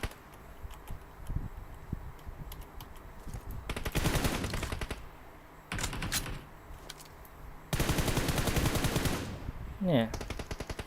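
Rapid automatic gunfire in the mobile battle royale game PUBG Mobile, several sustained bursts of fast shots separated by quieter stretches, loud and close.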